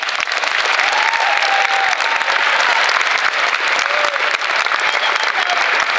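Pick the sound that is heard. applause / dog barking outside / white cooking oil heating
applause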